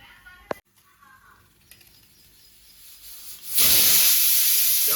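Steam hisses from dal boiling in a village kitchen, starting quietly and then surging into a loud, steady rush for the last second or so.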